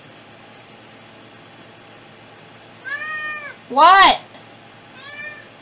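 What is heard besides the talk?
cat meowing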